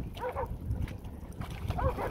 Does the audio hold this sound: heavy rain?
no